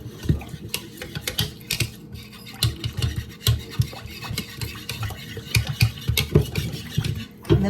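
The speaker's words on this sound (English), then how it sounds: "I'm gonna whisk that together real quick" Buttermilk mixture for sourdough tortillas being whisked in a bowl, a rapid irregular clatter of whisk strokes against the sides, close and fairly loud throughout with no talking.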